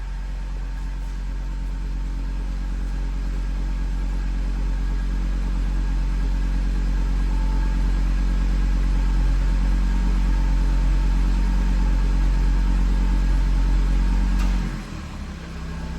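Audi 8Y RS3 with a downpipe, MPI intake, inlet and injectors, exhaust valves open: a deep, steady engine drone held close and loud for about fifteen seconds, then dropping off abruptly near the end.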